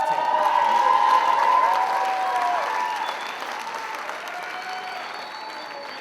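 Audience applause at an Oxford House world convention general session, a broad wash of clapping with some cheering and faint tonal sounds in the hall, strongest at first and easing slightly in the later seconds.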